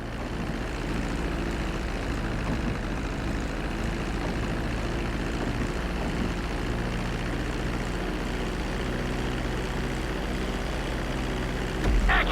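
Airplane engines in Grand Theft Auto V during a landing approach, a steady, loud, continuous engine drone and rumble with no talk.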